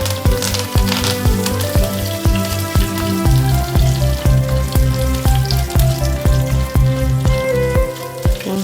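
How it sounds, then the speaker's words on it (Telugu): Tempering spices and a dried red chilli fry in hot olive oil, giving a loud, close, continuous crackle with rapid spitting pops and no talking. "చూసారు కదండి, పోపు దినుసులు వేగుతున్నాయి"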